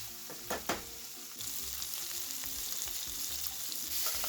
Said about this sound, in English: The browning releases the beef flavors into the fat